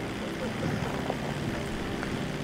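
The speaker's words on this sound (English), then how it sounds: "I'm flying the Dodo plane." The Dodo seaplane flies in a video game, its propeller engine giving a steady, rough, buzzing drone at a constant level throughout.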